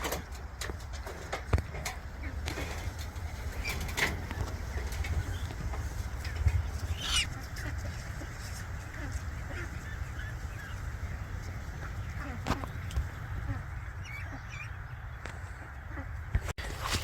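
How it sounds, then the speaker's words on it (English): Ducks quack and honk at dusk, scattered calls both close and farther off over a steady low outdoor hum, with no talking. "And the ducks are still happy."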